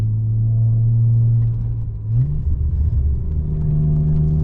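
Alfa Romeo Spider 916 with the 3.0L 24V engine, heard while driving: a loud, steady engine drone that dips briefly around a gear change, then climbs again under a rougher, rumbling load, with no talk.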